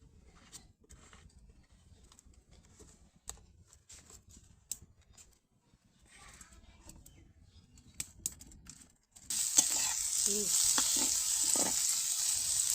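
Onion, garlic and chili frying in oil for a dried fish dish, with scattered quiet clicks and taps first, then a sudden loud, steady close sizzle with stirring.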